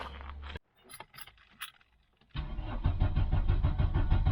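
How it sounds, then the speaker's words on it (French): Hot restart of a worn VW Golf 2 diesel: a brief engine run cuts out, followed by quiet clicks and key sounds, then the engine catches and settles into a loud, steady diesel clatter. "montrer ce que ça fait un démarrage à chaud"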